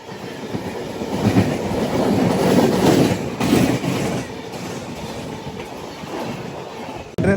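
Krishna Express train running on the rails near Bapatla, a steady loud rumble of wheels on track with faint clickety-clack, continuous and close throughout.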